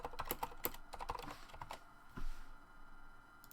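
Rapid keystrokes on a computer keyboard entering a message, a close run of light taps with no speech, pausing briefly before a few more keys.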